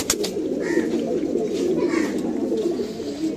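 Pet pigeons cooing in a loft, a soft continuous throaty burble close by, with someone talking over it.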